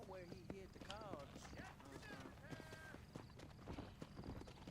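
A horse gallops in the Red Dead Redemption video game, its hooves beating a quick rhythmic clip-clop throughout while voices talk over it.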